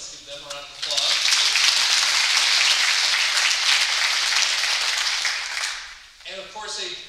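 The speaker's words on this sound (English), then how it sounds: "Let's give them a round of applause." Audience at a college mini medical school lecture applauds donors, a steady round of clapping that swells in after a brief moment of talk and fades before a speaker's voice returns.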